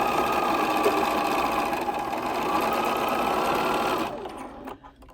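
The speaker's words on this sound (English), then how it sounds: "as I'm sewing, I'm making sure that this piece of the seam goes exactly where my needle is gonna go" A sewing machine stitches a quilt block seam with a loud, steady mechanical whir that runs for several seconds, then slows and stops.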